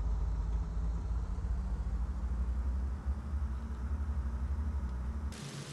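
A steady low engine drone as power comes up on a plane in the Microsoft Flight game, continuous and fairly loud, cutting off abruptly near the end.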